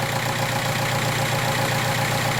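A Volkswagen car engine idles steadily with its air-conditioning compressor clutch engaged, giving an even, continuous mid-low hum with a faint tonal whine, close and constant throughout, with no voices.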